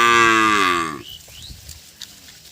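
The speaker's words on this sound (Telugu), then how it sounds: "అన్నం వేసిన తర్వాత బర్రెలన్నీ ఇటు వరకు వస్తున్నాయి" A buffalo lets out one loud, drawn-out moo lasting about a second, followed by quiet with a few faint knocks.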